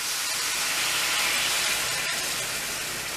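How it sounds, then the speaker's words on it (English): Water hits a hot copper skillet and sizzles in a loud, continuous steamy hiss that fills the whole stretch, with a brief dip partway through and no talking. "Alright, now I've got the copper pan hot. This skillet's ready to go. I'm going to add some water to it."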